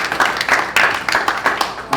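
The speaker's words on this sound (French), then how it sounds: "Vous acclamez pour la parole de Dieu." A church congregation claps and applauds at a sermon, a brief, loud wash of rhythmic hand claps mixed with voices.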